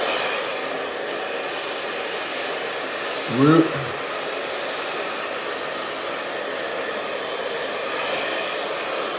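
A hair dryer blows steadily and loudly throughout while hair is styled with a round brush, with a brief spoken word partway through.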